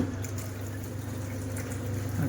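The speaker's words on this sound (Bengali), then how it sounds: "একদম ঠিকঠাক জল পড়ছে" Water runs steadily from a Pureit RO copper water purifier, a continuous close trickle with a faint low hum underneath, heard alone without speech.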